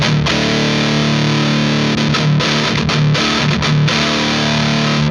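An electric guitar played through an EHX Hell Melter distortion pedal gives a loud, saturated, buzzing tone, with heavily distorted chords held and chugged in short rhythmic stabs and brief choked gaps.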